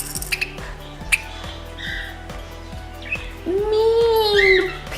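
A budgie squawking, ending in a rising, harsh nasal call after some faint chirps and clicks, close by and over a low rhythmic ticking.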